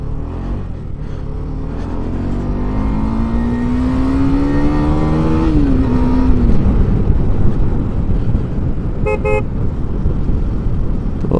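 A motorbike, cold after sitting unused for days, rides on a road between Baramulla and Srinagar in Kashmir, its engine rising in pitch as it accelerates, with traffic noise and a short horn toot near the end.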